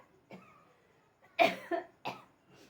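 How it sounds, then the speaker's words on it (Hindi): Several short, dry coughs from one person nearby, in a quick cluster after a brief throat sound, with quiet gaps between. "बोलने से खांसी हो जाती है।"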